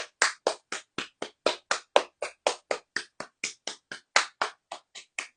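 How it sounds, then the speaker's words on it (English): A single person claps their hands about twenty times in a steady, even rhythm, loud and close, with no talking. "let's clap the hands"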